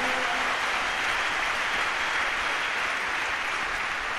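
A church congregation breaks into sustained applause, a dense, steady wash of clapping from many hands filling the space for several seconds.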